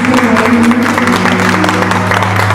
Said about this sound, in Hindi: इनका जोरदार ताली बजाती हूँ